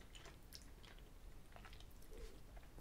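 Someone chewing a Fazer milk chocolate sweet with tutti frutti pieces; soft, close, steady chewing and faint squishy bites with no talk.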